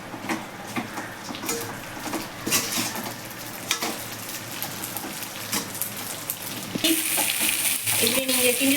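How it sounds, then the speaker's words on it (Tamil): Semiya upma being stirred in a pan with tempered onions, a steady close sizzle and scraping of the spoon through the vermicelli, frying growing louder and brighter toward the end. "இப்படி நீங்கள் கிண்டிக்கிட்டே இருக்கணும்."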